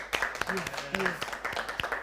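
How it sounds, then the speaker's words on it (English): A handful of people at a university debate final clap in a sparse, uneven scatter of sharp individual claps, with voices talking between them. "can you both teams just give each other a round of applause for coming this far?"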